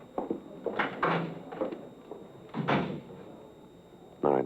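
A side door is handled in a radio police drama: a few sharp knocks and wooden thuds, a rattle and then a firm close, nearby and fairly loud, with no talking over them.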